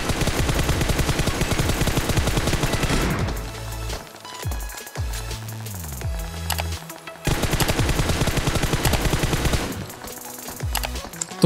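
Rapid automatic gunfire rattles in PUBG Mobile as an enemy sprays a seemingly endless stream of bullets on a single reload; loud continuous bursts stop briefly midway, then resume just as intensely.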